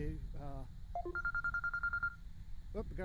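A phone gives a short electronic ring made of a quick series of beeping tones, close and fairly clear, with a voice speaking just before and after it.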